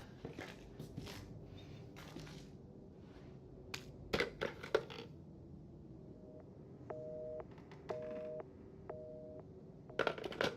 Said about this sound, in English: Phone's busy.